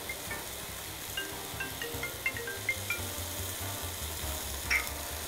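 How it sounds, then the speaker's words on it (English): Mushrooms pressed down in a hot pan for a barbecue mushroom steak, giving a steady soft sizzle with occasional light clinks and scrapes of a utensil. "I'm cooking the mushrooms. I'm doing the pressing technique"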